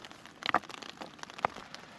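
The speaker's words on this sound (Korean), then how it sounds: "지금 겨울비가 와서 예, 돌밭을 이렇게 촉촉하게 예, 적셔주고 있죠." Winter rain falling on a stony riverbank at Donggang, Korea, a steady soft patter with scattered sharper drops ticking on rocks, no voices.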